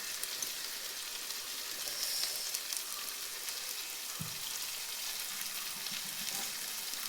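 Smashed roasted eggplant for a brinjal gojju sizzles steadily in a pan, a soft continuous frying hiss with one brief low knock of a utensil partway through, no voices.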